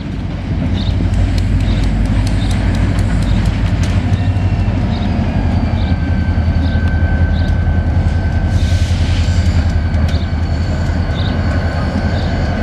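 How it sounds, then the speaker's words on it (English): A CSX southbound local freight train moving backwards in Marion, Ohio passes close by, a loud steady low rumble with a rhythmic series of clicking wheel joints and a brief hiss midway. "this local train was snucking up on me while I was on my phone"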